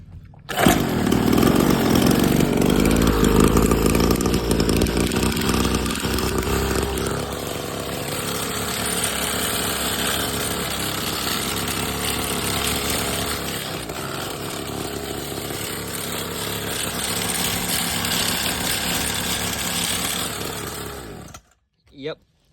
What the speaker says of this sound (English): let's start her up now and see if she rattles like crazy, like she did before